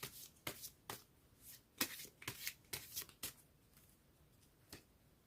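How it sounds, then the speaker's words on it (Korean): Tarot cards are shuffled and drawn by hand in a quiet room, a run of crisp, uneven riffles and flicks that fade into a few soft taps. "파랑님의 여름에 만날 인연에 대한 조언을 뽑아볼게요"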